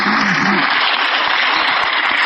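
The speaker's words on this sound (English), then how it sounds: "Give yourself a hand clap for coming out here." A crowd clapping outdoors at a gathering after a funeral was canceled, a dense, steady wash of applause held loud and close throughout, with a brief voice at the start.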